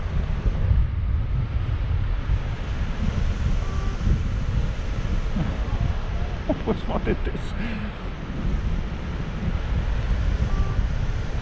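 Strong wind buffeting the microphone on a mountain summit near Kössen while paragliding: a constant heavy, low roar throughout, with a person speaking briefly over it.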